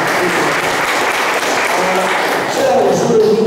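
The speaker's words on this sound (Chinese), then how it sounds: "再次掌声，谢谢大家" An audience applauds at a public lecture on the Anping museum, given by the director of the Anping oyster-shell lime kiln museum. Sustained, even clapping fills the room, and a voice begins talking over it near the end.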